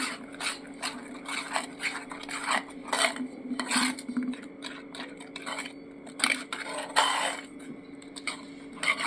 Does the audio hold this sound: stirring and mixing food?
yes